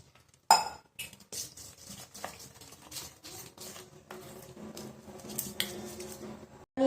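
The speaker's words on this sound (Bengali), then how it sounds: "দিয়ে এটাকে জল দিয়ে গুলিয়ে নেব।" A spoon stirs and clinks against a bowl as salt and chili powder batter is mixed with water, with repeated light scraping and soft clatter, close and fairly quiet.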